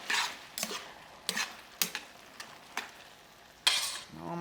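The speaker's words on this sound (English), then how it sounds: "drop your pasta into your sauce, give it a stir" Pasta being stirred into a sausage ragù sauce in a pan, a series of scraping, clinking utensil strokes at an irregular rhythm over a faint sizzle, close and fairly quiet.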